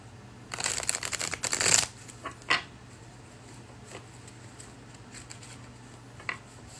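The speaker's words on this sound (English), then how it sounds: "One more shuffle." A deck of tarot cards is shuffled in a quick burst of riffling, rapid papery flutters that peak and then stop, followed by a few isolated soft taps and card clicks against a quiet room hum.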